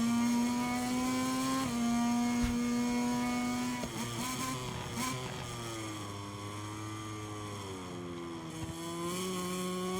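Engine of a racing motorcycle in the video game MotoGP 23 at Austria's Red Bull Ring, a continuous loud high whine that holds steady, then rises and dips through gear changes; no voices.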